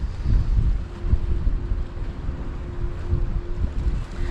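Gusty easterly wind buffets the microphone at the seashore, a steady loud low roar swelling and easing in gusts with no voices, a faint steady hum running underneath.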